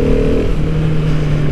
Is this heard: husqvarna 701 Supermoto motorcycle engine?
yes